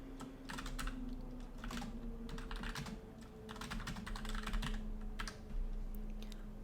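Someone types on a computer keyboard in quick clustered bursts of close, crisp key clicks separated by short pauses, against a faint steady hum.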